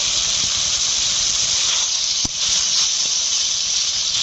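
Potatoes go into sizzling spiced masala in a pan, raising a loud, constant steamy hiss broken by one brief sharp clack midway.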